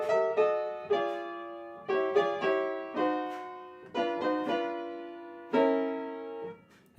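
A solo piano plays a slow passage from Luigi's Mansion of single notes and chords moving up and down by half steps, each note ringing and decaying.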